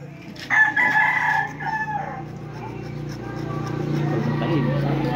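A seven-year-old rooster, a three-time winner, crows loudly and close by, one long drawn-out call standing out over a steady low hum while people talk in the background.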